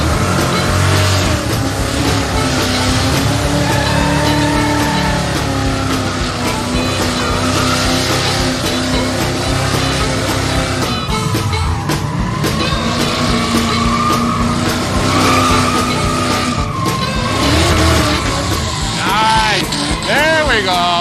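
A supercharged modular-motor Crown Vic on a police chassis launches at a Roadkill Nights track event, its engine roaring loud and continuous with tire noise and skidding, while people talk over it.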